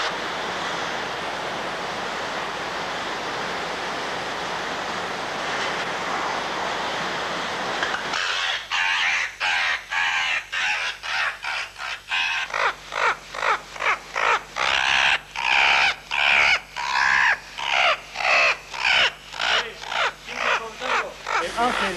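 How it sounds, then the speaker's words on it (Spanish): Oilbirds (guácharo) call inside a cave in the jungle, first as a steady hiss of overlapping screeches. From about eight seconds, loud rasping squawks take over and pulse rapidly, echoing and dense, with no talk. "el guácharo es un ave muy particular. Es la única ave adaptada a vivir en cuevas en todo el mundo"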